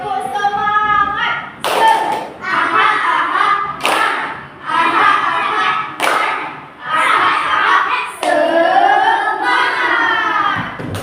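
Children chant in rhythm while clapping in unison, with sharp sets of claps separating sung phrases in a loud, close classroom setting.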